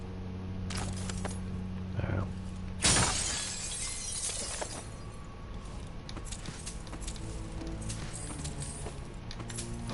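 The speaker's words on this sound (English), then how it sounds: "Hopefully no one heard that massive explosion of glass." A sudden loud crash of shattering glass in the video game Dishonored 2 breaks out, followed by scattered tinkling debris over a steady background ambience.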